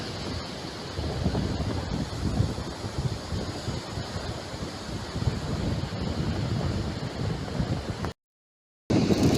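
Strong gusty wind roars continuously against the microphone on the coast, with a low rumbling wash like surf beneath it, briefly dropping out near the end.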